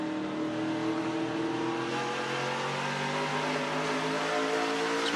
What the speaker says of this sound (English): You can hear the RPMs build.